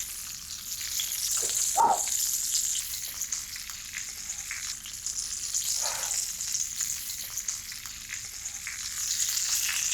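Endive halves frying and caramelizing in a hot pan, a steady fine crackling sizzle that holds throughout, with a couple of brief louder spits partway through.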